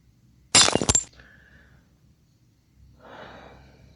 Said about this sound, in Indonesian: Liontinnya pecah.